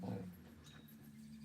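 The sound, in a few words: dog whimpering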